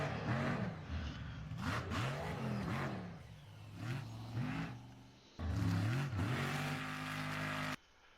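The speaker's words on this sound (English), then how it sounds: "This is an RC truck with sound laid over top of it." A radio-controlled truck with a laid-over engine sound effect revs and shifts repeatedly, loud and close, its pitch rising and falling in surges before cutting off abruptly at the end.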